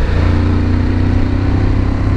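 Suzuki V-Strom 1050 motorcycle engine running at idle to low revs, a steady throbbing rumble heard up close and fairly loud for about two seconds, with no talking.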